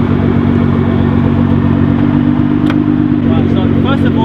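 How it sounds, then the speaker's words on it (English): A Nissan GT-R with its rev limiter removed, running close and loud with a steady, heavy engine drone throughout and a few faint crackles near the end. "because the rev limit has been removed, you can actually get flames really easily when it's parked up"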